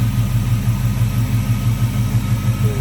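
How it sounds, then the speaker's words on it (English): A 1950 Chevrolet 3100 pickup street rod with a 5.7 liter engine and headers idles steadily in the engine bay, a close, loud, even low rumble with a regular pulsing beat and no talking. "a look at the engine bay and see that engine running there, listen to it"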